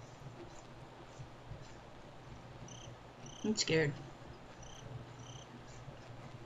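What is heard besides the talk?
crickets chirping in the Slender video game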